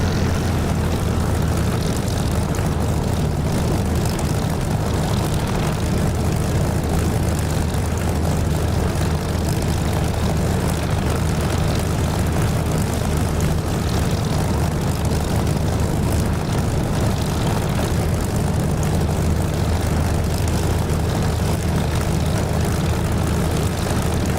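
Loud, steady aircraft engine drone from a propeller plane taxiing in the DCS flight simulator, a constant close rumble with no breaks and no voices.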